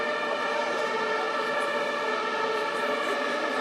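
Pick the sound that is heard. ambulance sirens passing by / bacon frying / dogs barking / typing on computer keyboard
ambulance sirens passing by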